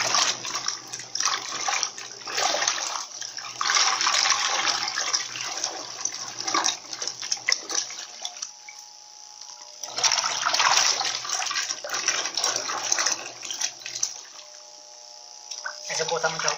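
A Newmaq twin-tub washing machine washing white clothes, with water churning and sloshing in long stretches that break off briefly around the middle and again near the end.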